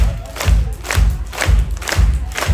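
Concert audience clapping and shouting at a metal show in Leipzig, loud rhythmic beats about every half second with crowd roar between them.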